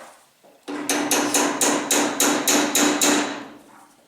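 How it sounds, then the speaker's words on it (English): About ten sharp metallic hammer taps strike a fine chisel behind a wheel bearing dust cap in a steady, even rhythm, close and loud, with no talking. "get a very fine chisel behind the dust cap here and just lightly tap it with a hammer"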